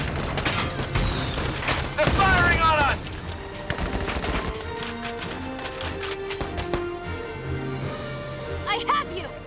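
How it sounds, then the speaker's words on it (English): Rapid gunfire rattles through a Valkyria Chronicles 4 battle on a beach, bursts of shots with booms and clatter, while voices shout over the fighting. "They're firing on us!"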